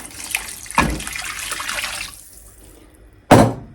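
Water running from a kitchen tap while cooking a lentil and mushroom gratin: a couple of short gushes, a steadier flow that tapers off, then a final sharp burst of water near the end.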